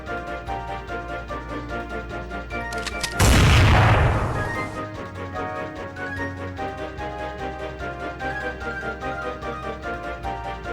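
A single loud blast bursts over a steady music bed, roaring briefly and then decaying over about a second before the music carries on.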